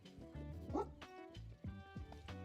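Cartoonish dog barks and yips from a small dog in the cozy game Tiny Bookshop, several short bursts over soft background music.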